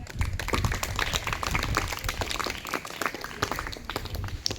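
Enthusiastic clapping from a crowd of students and parents at a school Guru Purnima celebration in Porbandar, a lively, steady patter of many hands continuing for several seconds.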